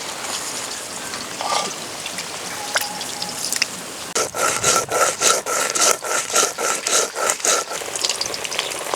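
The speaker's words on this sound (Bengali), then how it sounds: "মাছ ভাজা হতে হতে ভাজা মশলা শিলে বেটে নেব।" Fried spices are ground on a stone slab. Soft scraping comes first, then a run of rhythmic, evenly spaced rubbing strokes, close and distinct, about a dozen passes back and forth.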